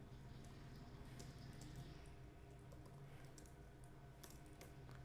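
Keystrokes on a computer keyboard as a heading is typed, quiet clicks scattered over a steady low hum and background noise, with no talking.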